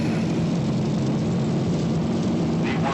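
An airliner's engines spool to takeoff thrust on the runway at Jacksonville (KJAX) in a loud, steady roar with a strong low drone, heard continuously without a break.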